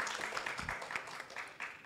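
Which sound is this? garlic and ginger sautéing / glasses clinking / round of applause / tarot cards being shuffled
round of applause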